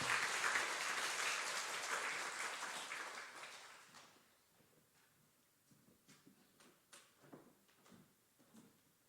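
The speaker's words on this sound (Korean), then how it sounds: "큰 박수와 함성으로 환영하겠습니다" Applause from a church congregation welcoming a pastor to the front at a prayer meeting: loud, dense clapping at first, then it fades to a few scattered claps and faint knocks.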